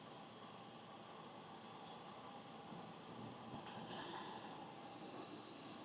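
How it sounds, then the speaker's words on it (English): Blueberry muffin mix boiling in a SilverAnt 600 ml mug over an alcohol stove outdoors, a steady close hiss and bubbling roar that swells louder near the end. "Do you hear that boiling?"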